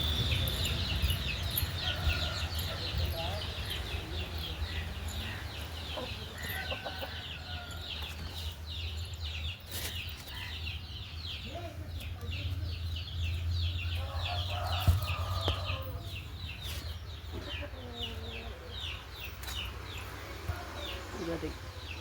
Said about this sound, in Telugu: మా కోళ్ళు అయితే గుడ్లు పెడుతున్నాయి అనమాట